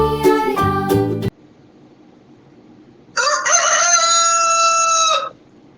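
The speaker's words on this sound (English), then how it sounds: "galo" A rooster crows twice, a short harmonic call followed after a pause by a longer, drawn-out cock-a-doodle-doo, loud and close with quiet between the calls.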